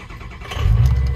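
A tuned, lifted 2003 Ford F-350 XLT 4x4 with the 6.0L engine cranks briefly, then catches and settles into a deep, loud rumble within about a second.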